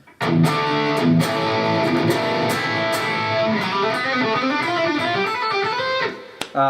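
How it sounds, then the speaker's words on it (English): High-gain distorted electric guitar with a saturated Marshall JCM 800 style amp tone, playing dense sustained chords and riffs loudly and continuously, with a brief drop near the end. "So that was using a Marshall JCM 800 kind of sound."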